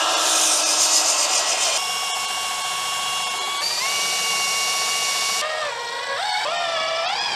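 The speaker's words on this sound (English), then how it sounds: "I'm gonna clamp these two boards together and cut it as one." Power saw cutting through two fence boards clamped together, a loud continuous whine whose pitch holds, then steps and bends as the blade loads and frees up, running throughout with no talking.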